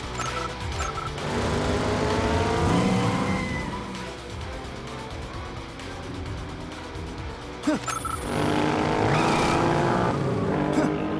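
Animated race cars roar past with rising and falling engine whines and tire squeals as the Silver Wolf closes in to overtake the Icicle Strike, loud and continuous, with a sharp burst near the end.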